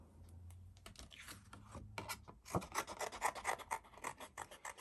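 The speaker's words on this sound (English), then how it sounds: "So we'll cut this out." Scissors cutting out a paper circle for a handmade gel press card, with steady rasping snips that grow louder and denser in the second half, close and alone.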